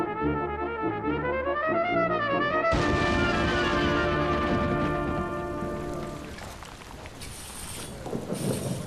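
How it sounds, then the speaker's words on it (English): Heavy rain sweeps over a garden during a landscaping makeover, a steady hissing downpour, with a warbling electronic tone over it at first. "Great load of rain blowing over."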